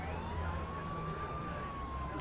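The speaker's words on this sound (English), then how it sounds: "I hear police sirens on their way." Police sirens wail steadily in an audio drama, a continuous rising and falling tone held at a distance under a low traffic-like rumble, with no talk over it.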